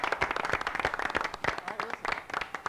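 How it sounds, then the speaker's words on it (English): A game-show audience applauds a competing quiz team, a short burst of distinct, close, rhythmic clapping from a modest crowd. "Round of applause."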